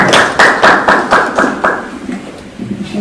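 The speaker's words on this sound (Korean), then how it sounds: "큰 박수로 맞이하겠습니다." Applause from an academic conference audience welcoming a discussant from Cheongju National University of Education, a few bursts of clapping that start loud and fade to a thinner patter within seconds.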